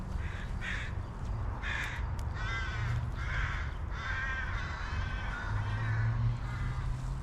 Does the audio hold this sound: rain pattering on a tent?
no